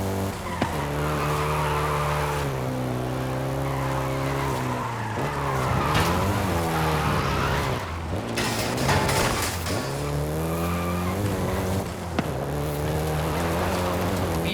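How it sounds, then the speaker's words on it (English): A Volkswagen Golf GTI driven in Forza Horizon 5 in Mexico, engine droning and rising and falling through gear changes with repeated tire squeals and skids, steady and close for the whole stretch. "including the Golf GTI you're driving right now"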